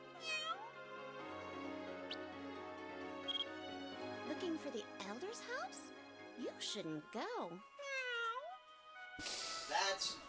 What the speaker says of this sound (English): She meows.